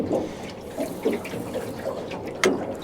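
Water splashes and gurgles steadily into a fishing boat, a continuous liquid pour with small bursts and sloshes, moderately close and free of talk.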